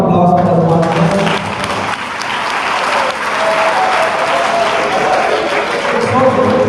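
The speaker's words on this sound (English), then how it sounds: "Let's give a big round of applause for the sponsor." Audience in an academic hall claps for a sponsor after a vote of thanks, a dense burst of applause that swells and holds steady, with a voice briefly heard over it at the start.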